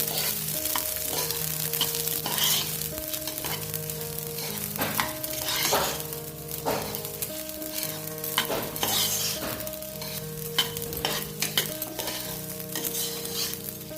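Washed, soaked rice being fried in a pan for brinjal vangi bhaat: continuous loud sizzling with frequent scraping and stirring strokes, and a steady musical tone running underneath, with no talking.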